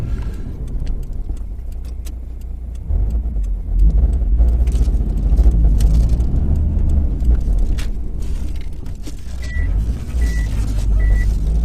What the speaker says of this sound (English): Good thing with these is they beep when you go in the reverse,